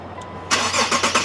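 A 2011 Infiniti M37X all-wheel-drive car starts when the remote key is held to its start button. After a quiet moment, a sharp cranking burst catches into a loud, rough idle with a few rhythmic surges.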